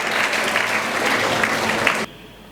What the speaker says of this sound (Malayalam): മറ്റെല്ലാവരും അവർക്ക് വേണ്ടി ഒരു മനോഹരമായ കയ്യടി